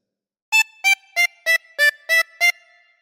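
Harmonica plays a phrase of the nursery tune This Old Man: seven short, evenly spaced reedy notes, clear and close, alone against silence.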